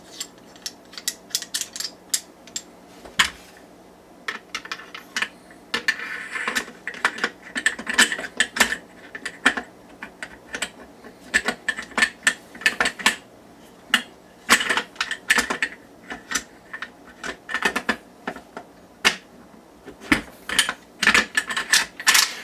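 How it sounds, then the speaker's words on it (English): An I.O. Inc AK wood sporter rifle bolt is taken down and handled, producing close, sharp metallic clicks, slides and rattles in irregular bursts throughout, with no one speaking. "Here's the bolt takedown. Comes out really simple."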